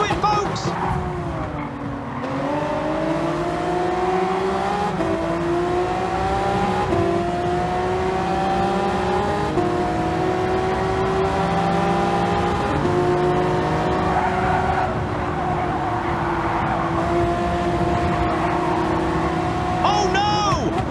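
Race cars thunder past in a continuous, loud roar with rising and falling engine whines and tire squeal, a sustained pack of engines near the listener, with a commentator talking over it.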